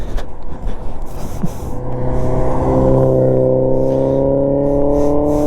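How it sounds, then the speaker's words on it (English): A Mazda Miata starts up and pulls away nearby, its engine note rising into a steady, loud droning hum with strong harmonics that holds for several seconds, with no voices. "Miata is on the move, dude."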